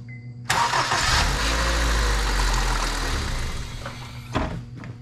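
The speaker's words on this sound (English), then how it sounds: "Let's crank it up for just a second." A Honda car engine cranks over after a short silence and catches, running loud and steady for about four seconds during power steering work with a nearly empty reservoir, then is cut off abruptly.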